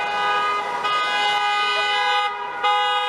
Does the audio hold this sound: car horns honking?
yes